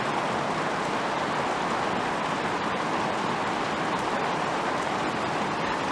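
Steady rain falling in the southern New Mexico desert, a continuous even hiss of drops pattering on surfaces with no voices, holding at a constant level throughout.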